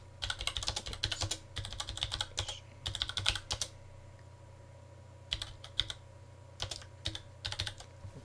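Keys clatter on a computer keyboard while a comment is typed, in quick bursts of close, crisp keystrokes separated by short pauses, heard alone against a quiet background hum.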